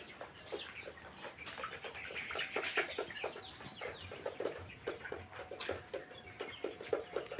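Layer chickens, around 48 days old, some sitting and unable to stand after a coryza vaccine, cluck softly and repeatedly in a quiet poultry shed, many birds overlapping at low volume.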